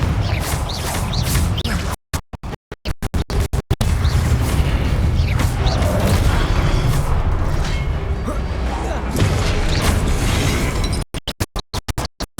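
Booming fire-spell blasts in Hogwarts Legacy, the Confringo curse exploding in a dense, continuous roar, broken by stuttering cut-outs near the start and end.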